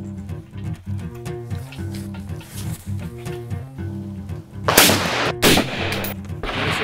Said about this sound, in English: This will be shot out of the M4 rifle.